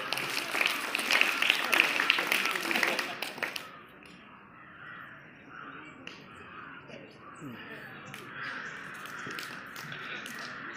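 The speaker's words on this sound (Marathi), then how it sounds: "विद्यार्थ्यांनी टाळ्या वाजवायच्या आहेत" Students at a school sports prize-distribution ceremony clap for a few seconds, a lively burst that then fades out, leaving quieter room sound and a voice speaking.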